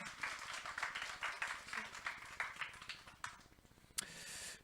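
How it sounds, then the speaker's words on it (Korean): Applause from a church congregation at a Sunday Advent service, a dense patter of many hands clapping steadily for several seconds, slightly distant and roomy, with a few louder sharp claps near the end. "우리 큰 박수 한번 올려드리기 원합니다."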